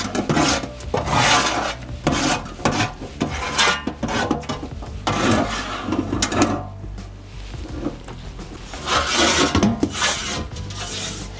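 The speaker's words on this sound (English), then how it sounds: "lift this part out and start scraping it to one end" Homemade sausage mixture being scraped toward one end of a tray, giving repeated rough rasping and rubbing strokes in bursts, close and fairly loud, with no talk.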